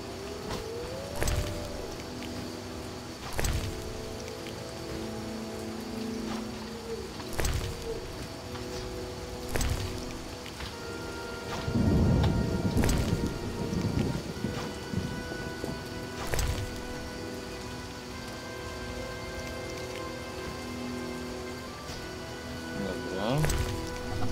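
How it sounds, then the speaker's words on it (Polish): Steady rain patters through the old city district of Wyzima in The Witcher video game, a continuous wash with occasional louder gusts and faint low rumbles, with soft background sounds throughout. "To jeszcze deszcz zacina."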